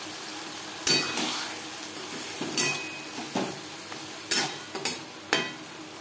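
Onion, garlic and tomato paste fry in a pan for a mutton curry, a soft continuous sizzle broken by several sharp scraping stirs and clanks of a utensil against the pan, close and alone with no talk.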